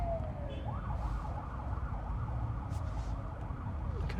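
A police car siren wails steadily at night in Sydney, heard from inside a moving car over a constant low road and cabin rumble, the rising and falling tone fairly distant.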